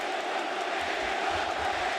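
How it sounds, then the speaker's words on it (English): A crowd at an AEW wrestling singles match featuring Kenny Omega roars in a dense, sustained wall of cheering noise, steady and distant-sounding without breaks. "And now listen to the cheer"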